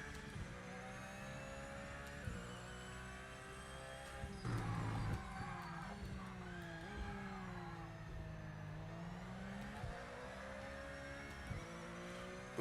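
A Porsche race car engine in the Project Motor Racing video game drones steadily, its pitch rising and falling through gear changes and throttle lifts, a continuous faint tone with no speech.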